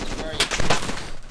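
Gunfire in a military video game: a few sharp shots crack in quick succession, moderately close, over a faint background.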